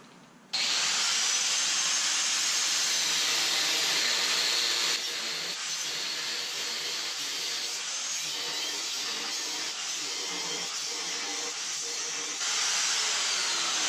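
Abrasive cutoff wheel grinding through a Ford 8.8 rear differential housing being narrowed, a loud, steady high-pitched whine that runs continuously close up with slight dips in load, no talking.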